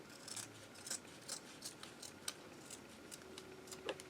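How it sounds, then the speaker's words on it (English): Scissors snip through thick denim fabric trimmed from a handmade denim bird, a series of crisp, faint, evenly spaced cuts close by in a quiet room. "I'm going to cut that off."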